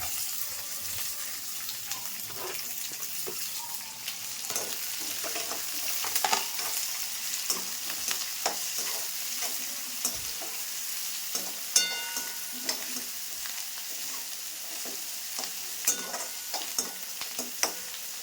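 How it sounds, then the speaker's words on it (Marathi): Sliced onions fry in hot oil for Maharashtrian kanda poha, a continuous close sizzle with scraping and occasional clinks of a spoon stirring the pan, no talking. "तेलात ना कांदा एकदम मऊसर होऊ द्या"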